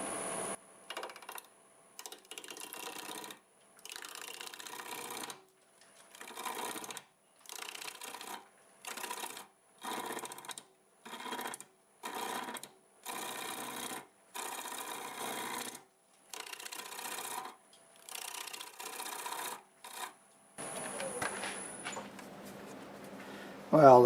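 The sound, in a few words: wood turning on a lathe with a bowl gouge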